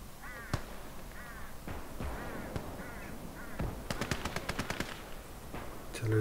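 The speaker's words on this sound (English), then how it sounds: "Artillery's blasting" Artillery blasts and machine-gun fire from the Soviet skirmish battle in the strategy game Gates of Hell: No Land Beyond the Volga, with scattered sharp reports and a quick rapid burst near the end over a busy battlefield background.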